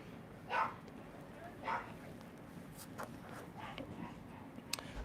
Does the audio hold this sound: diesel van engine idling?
no